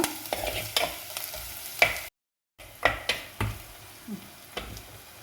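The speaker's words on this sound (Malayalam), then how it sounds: "നന്നായിട്ട് വഴറ്റി കൊടുക്കുക" Onion with garlic-ginger paste sautéed for a crab curry: a spoon scrapes and stirs through the pan in irregular strokes over a soft sizzle, with a brief dropout partway.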